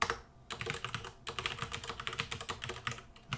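Rapid clicking keystrokes on a computer keyboard as C# code is typed, coming in quick bursts with brief pauses, close and fairly quiet, with no talking.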